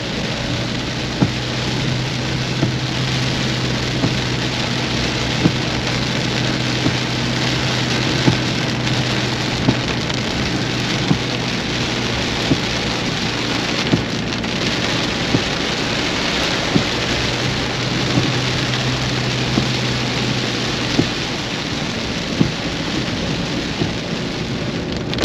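Heavy rain pours down steadily with thunder, a dense, constant roar of water on surfaces with scattered sharper drops and low rumbles, loud and unbroken throughout.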